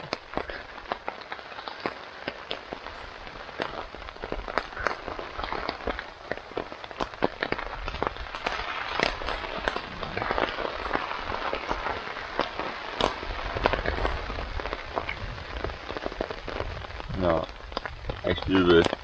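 Rain patters on a tent or hiker's gear during a long-distance walk on the Heidschnuckenweg, with gusts of wind, close irregular drips and crackles running throughout, and someone talking now and then.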